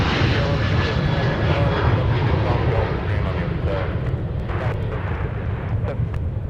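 A Sun Country airliner departs for San Francisco, its engine roar loud, broad and steady throughout with wind noise, while faint voices talk underneath.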